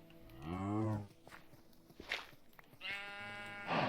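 Two drawn-out cow moos from a video game farm, each a loud, low, wavering bellow, separated by quieter clicks and shuffling, the second moo rising near the end.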